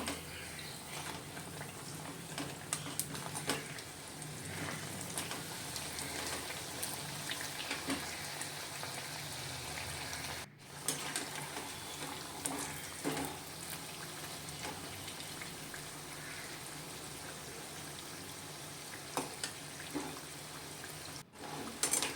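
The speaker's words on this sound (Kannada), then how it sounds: "ಒಂದು ಸೈಡ್ ಫ್ರೈ ಆದ ನಂತರ ಇನ್ನೊಂದು ಸೈಡ್ ಫ್ರೈ ಮಾಡಬೇಕು" Brinjal (mattu gulla) fritters fry in hot oil, a steady, close, crackling sizzle that continues evenly throughout.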